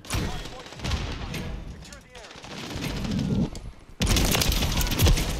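Gunfire in Call of Duty: Modern Warfare III, with loud, punchy shotgun blasts and rapid shots coming in bursts, with a heavy boom near the end and a voice talking over parts of it.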